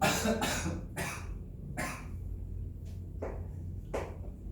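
A run of dry coughs, several in quick succession at first and then spaced out, close and moderately loud in a quiet room.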